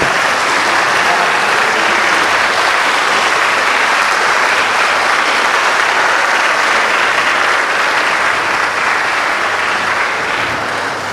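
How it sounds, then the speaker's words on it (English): Dense standing-ovation applause from a large audience at an MoU signing ceremony and workshop event, a loud, continuous wash of clapping that stays steady from start to finish with no talk over it. "let us stand up and give a big round of applause, standing ovations"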